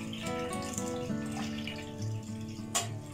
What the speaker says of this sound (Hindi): और इसमें हम पानी शामिल करेंगे।